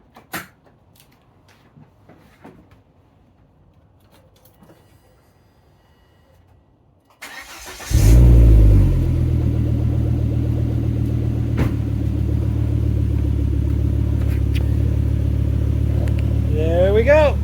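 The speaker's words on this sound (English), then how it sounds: "I'm going to give you a bonus cold start since you made it this long in the video" A 2002 car's engine cold-starts about eight seconds in with a loud crank-and-catch, then settles into a steady, loud idle rumble that runs to the end, with faint handling noises before it.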